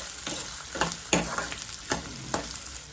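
Chopped onion sautéing in a kadai with bay leaf, a steady sizzle broken by several sharp scraping stirs at a regular pace, close and fairly loud with no talking.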